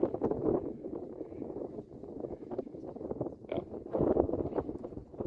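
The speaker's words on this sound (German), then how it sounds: "Wir haben ja auch Sturm." Stormy wind buffets the microphone outdoors during a demonstration about car airbags, rough low gusts rumbling unevenly and swelling louder toward the end, with no clear speech over it.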